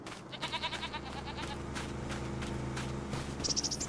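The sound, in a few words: goats bleating in Farming Simulator 25 video game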